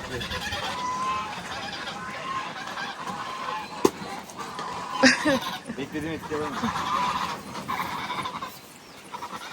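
Geese honk intermittently while feeding on watermelon rinds in a backyard garden, the calls mixed with people talking and laughing nearby.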